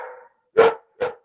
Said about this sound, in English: my very protective big dog is trying to save us all from the bad guys